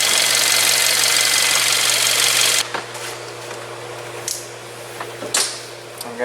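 A Hyundai Kona with an oxygen sensor fault idles with a loud, steady engine drone, then is switched off and cuts to near silence, followed by a few faint clicks and small handling noises.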